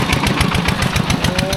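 Farm tractor engine running steadily up close, a loud chugging rhythm of rapid regular knocks with no pause.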